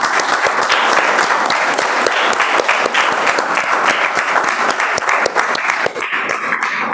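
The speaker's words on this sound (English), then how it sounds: "we will clap for ourselves, but clap for all of us as well" Sustained, loud group applause in which the members of a health meeting clap for themselves together. Dense clapping runs throughout and thins slightly toward the end.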